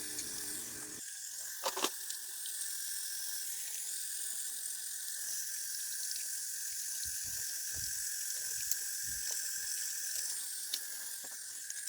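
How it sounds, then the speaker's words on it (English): Makeup brush bristles rinsed under a running faucet at a sink, a steady close hiss of flowing water throughout with a few faint splashes and knocks near the end. "Now I have to go in and rinse off all the bristles"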